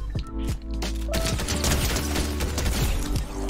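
Fortnite gunfire, a dense rapid crackle of shots with heavy low thumps, continuous and loud through the whole stretch with no voices over it.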